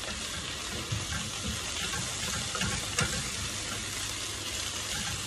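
Black fish and vegetables fry in a pan as they are stirred, giving a steady, close hiss and sizzle with occasional scraping clinks.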